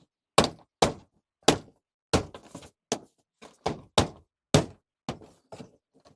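A Tesla Model X rear tail light is banged into place with about a dozen sharp, close thumps in a steady rhythm, each followed by a short rattle, with no talking.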